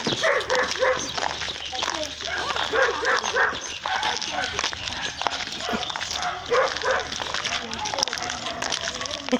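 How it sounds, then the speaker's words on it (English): Several neighborhood dogs bark, yip and whimper during an evening walk, with repeated overlapping barks at varying distances, while people talk nearby. "people in the neighborhood have decided to let their dogs out."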